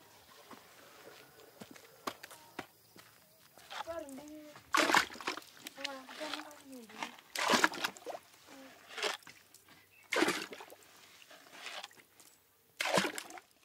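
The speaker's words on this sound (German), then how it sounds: "holt Nachschub an Wasser im Bett des nahen Flusses" Water is fetched from a nearby riverbed in southern Africa, with irregular splashes and footsteps at moderate distance, mixed with voices speaking.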